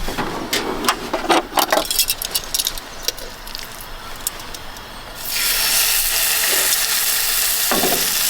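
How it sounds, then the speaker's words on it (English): Food sizzles loudly in a hot pan, starting with clattering and stirring, then a steady, close hiss of frying fills the rest. "Listen to the sizzle."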